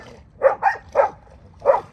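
Four short, clear barks from an XL Pitbull or Golden Retriever close by at an off-leash dog park, two quick ones then two spaced apart, over faint background noise.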